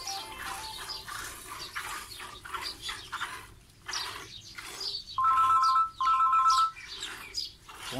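A phone ringtone plays two short repeating electronic bursts, loud and close, amid faint cow calls and background noise at a cattle sale in Pakistan.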